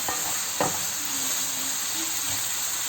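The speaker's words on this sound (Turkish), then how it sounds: "En son kremasını ekleyip makarnamla karıştıracağım." Pasta with sautéed mushrooms and cream being stirred in a hot pan, a constant close sizzle with a couple of soft scraping stir strokes.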